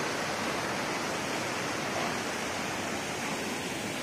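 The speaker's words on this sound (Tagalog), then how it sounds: "Wow, tingnan nyo ang sapa. Ang sapa nila." A farm stream rushes along as a broad, steady flow of water, dense and continuous without a break, with no voices over it.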